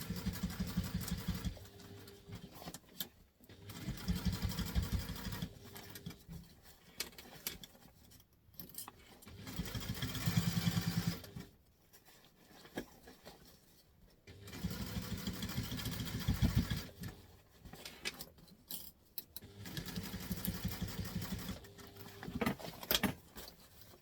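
A sewing machine stitches a bag in several long motorized runs with a rapid mechanical patter, broken by short pauses as the fabric is turned, heard close and alone.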